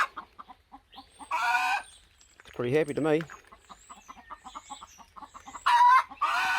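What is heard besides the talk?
chickens clucking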